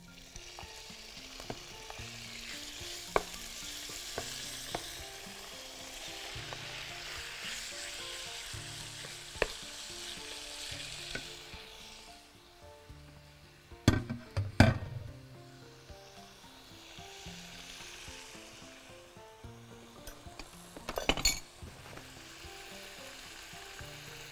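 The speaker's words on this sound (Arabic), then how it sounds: "دلوقتي بقى خلينا نحط الفراخ" Chicken frying and sizzling in a pan, a steady crackling hiss throughout with occasional louder clatters and scrapes midway and near the end.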